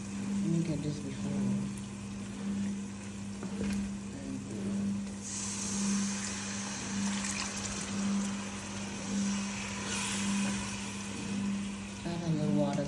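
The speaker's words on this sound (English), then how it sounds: "Add a little water to the stew." Water is poured into a simmering stew in a pot for Ghana jollof rice, giving a hissing, splashing rush in the middle of the clip; a person talks at times, and a low kitchen hum runs underneath.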